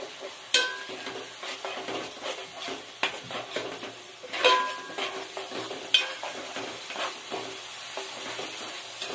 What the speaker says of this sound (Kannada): ಈಗ ಹಾಕೊಂಡು ಚೆನ್ನಾಗಿ ಫ್ರೈ ಮಾಡ್ಕೊಂಡ್ರೆ ಚೆನ್ನಾಗಿರುತ್ತೆ